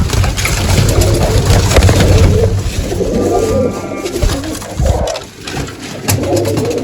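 Pigeons coo in low, throaty repeated calls close by, over a steady background hum with no talking.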